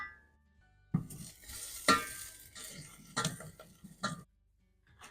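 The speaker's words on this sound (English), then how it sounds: "we're going to saute this until it's fragrant and translucent" Aromatics sautéing in a pan for a beef stew, with a few distinct scraping stirs of a utensil over a low, quiet sizzle, spaced about a second apart, close and without talk.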